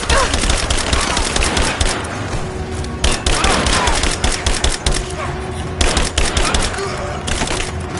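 Suppressing gunfire in the Tomb Raider video game: loud, rapid bursts of automatic fire and shots crackle back and forth in clustered volleys with brief pauses between them.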